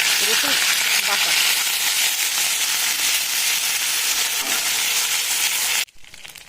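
Ginger, green chilli, cumin and garlic paste spit and sizzle loudly in hot oil, a dense steady frying hiss that runs close and unbroken for nearly six seconds before cutting away abruptly.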